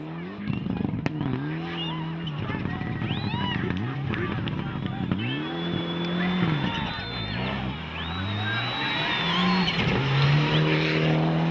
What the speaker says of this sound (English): The Italians were once again a little over-exuberant, spinning the Evo 10 on this junction